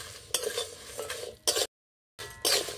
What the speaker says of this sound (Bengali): সেই গরম অবস্থায় কিন্তু এইভাবে আমি অনবরত নেড়েই যাচ্ছি।